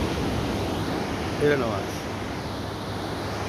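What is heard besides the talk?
ocean waves on the shore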